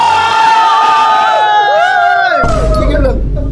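A group of people shouts and cheers loudly together, voices rising and falling over about three seconds, with a louder, rougher burst of noise near the end.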